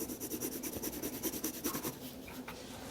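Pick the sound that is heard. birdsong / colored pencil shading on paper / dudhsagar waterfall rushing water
colored pencil shading on paper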